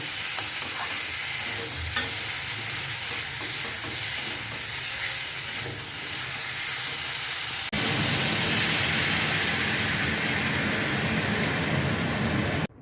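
Water poured into a pan of fish curry base holding tomato paste and fried drumstick pieces: a steady close sizzle and stir, then an abrupt louder hissing rush that stays broad and even to the end.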